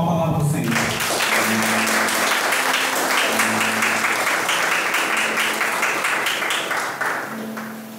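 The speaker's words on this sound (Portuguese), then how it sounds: "Uma forte salva de palmas, palavra do Senhor." Church congregation applauding after a Bible reading at Mass, steady dense clapping from many people filling the room for several seconds before tapering slightly at the end.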